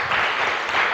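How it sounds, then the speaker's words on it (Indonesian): An audience at an MC training session claps briefly for the first speaker, a dense burst of many hands with no talk over it. "Tepuk tangan buat yang pembicara pertama."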